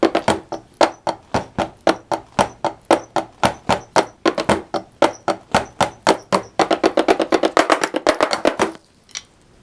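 Dull, muted tapping thumps of rubber pads on a switched-off Carlsbro CSD130 electronic drum kit struck in a steady rhythm, speeding into a rapid roll before stopping; no drum tone rings out.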